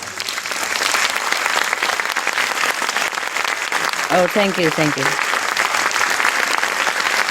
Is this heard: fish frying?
no